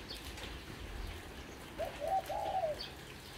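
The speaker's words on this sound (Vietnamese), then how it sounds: "Tất cả những cái con chim này." A soft dove coo rises once in the second half, fairly close and moderately quiet, over a low, steady outdoor background with no talking.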